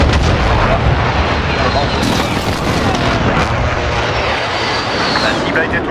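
Artillery strike explosions in the Modern Warfare multiplayer video game rumble and boom continuously, loud and dense, with aircraft noise and a voice speaking over the barrage.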